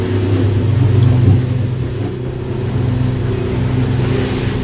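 A 28-foot 2019 Duckworth boat cruising at about 3,500 rpm with two outboard motors running, a steady, loud low engine drone and hum with water rush, continuous and without talk.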